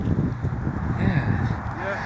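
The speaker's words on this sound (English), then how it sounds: "there's that wind again" Wind gusts across an open cemetery in Ontario, rushing and buffeting against the microphone as a steady low roar, while a person speaks faintly underneath.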